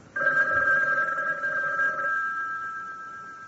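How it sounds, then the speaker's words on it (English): Old-fashioned telephone ringing in a vintage radio drama, a bright electric bell ring close by that sounds once for about two seconds and then fades away. "He started for the door, but stopped short as the phone rang."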